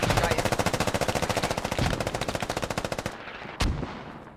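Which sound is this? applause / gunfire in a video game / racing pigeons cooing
gunfire in a video game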